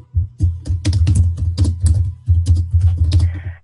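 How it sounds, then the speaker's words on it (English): Rapid typing on a computer keyboard picked up by an open microphone during an online meeting, a close, loud, steady run of key clicks with brief pauses. "We can hear you typing."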